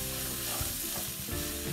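Cabbage fried with pepper powder is stirred in a pan, a steady close sizzle with scraping strokes of the spoon through it, no voices.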